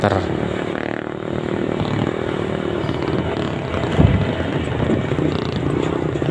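A Honda Vario 160 motorcycle engine runs at a steady idle nearby, a low rumbling hum with a brief thump partway through, and no speech over it.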